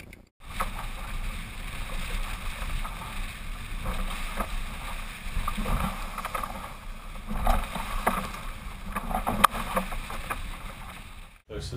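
Paddling a racing sailboat during the Shetland Round Britain and Ireland race from Lerwick to Lowestoft in light, dying wind, with soft rhythmic splashes and water swishes against a hushed background of faint wind and hull noise.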